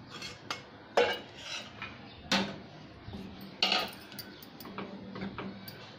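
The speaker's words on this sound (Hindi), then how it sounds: "इसे थोड़ा चलाएंगे, कंटिन्यू स्टर करेंगे ताकि इसमें कोई लम्स ना बने" A spoon stirs gram flour batter in a pan, with several sharp scrapes and clinks against the metal at uneven intervals over quiet kitchen background.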